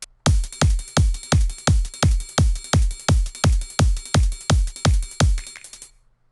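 Percussion loop of triangle, closed and open hi-hats and kick drum, about fifteen evenly spaced hits, each a punchy low kick with bright shimmering metal on top, loud and close with no voices.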